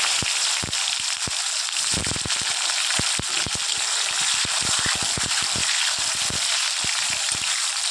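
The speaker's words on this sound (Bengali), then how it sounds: "তারপর টমেটো কুচিটা দিয়ে দিচ্ছি" Chopped tomato hits hot oil in a pan of frying puti fish chorchori, giving a loud, steady crackling sizzle with dense sharp pops throughout and no voices.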